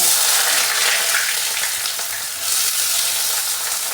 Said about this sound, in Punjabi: ਮੈਂ ਬੇਸਨ ਦੀ ਕਰੀ ਨੂੰ ਤੜਕਾ ਪਿਆਜ਼ ਲਸਣ ਨੂੰ ਕੱਟ ਕੇ ਹੀ ਲਗਾਨੀ ਆ